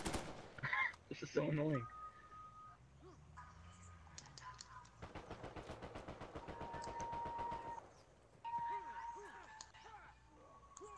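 Rapid automatic gunfire in the Uncharted 4 multiplayer beta, with bursts of shots and scattered game effects. A frustrated voice speaks over the firing at one point.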